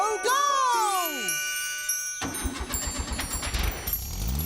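Magic cartoon car in Ben and Holly's Little Kingdom: a chiming, tinkling magic sweep, then the engine catches and chugs steadily at close range, with no petrol in the tank.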